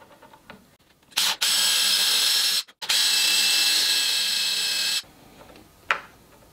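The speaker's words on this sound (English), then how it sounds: "So I've got my tape gauge set up on my drill and hopefully I'll obey it." A power drill fitted with a tape depth gauge bores into the wood of a baby cot side in two loud, steady whirring bursts of about one and two seconds, separated by a brief pause, with quiet handling noise before and after.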